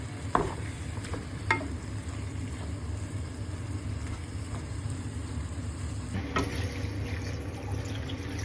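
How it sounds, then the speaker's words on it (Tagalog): Sausage is stirred into a pot of Filipino sopas seasoned with black pepper. A low, steady simmering hiss runs throughout, broken by a few sharp spoon knocks against the pot near the start and again later. "Ihalo na rin pa rin natin yung sausage natin."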